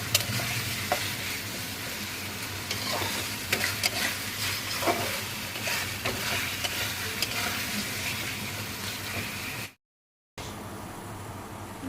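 Spices sautéing in oil for a fish, potato and pointed gourd curry, a steady close sizzle with frequent stirring scrapes, cutting briefly to silence near the end.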